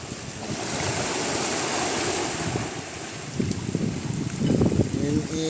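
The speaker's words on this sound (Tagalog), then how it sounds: "Sobrang lakas ang alon dyan." Strong ocean waves surge near a pier at a seaside barangay, a loud continuous roar of surf and wind buffeting the microphone, with someone talking over it toward the end.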